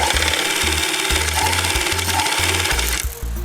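A sewing machine runs a long seam on a neoprene holster, its needle thumping in a fast, even rhythm of repeated bursts before slowing and pausing near the end.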